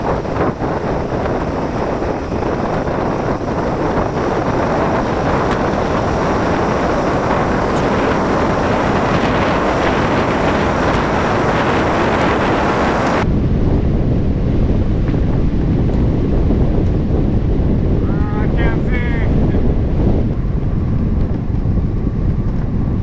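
Heavy wind roar buffets the microphone during a fast bicycle descent in light rain, loud and continuous throughout, with a sudden drop in brightness partway as the rushing air turns duller.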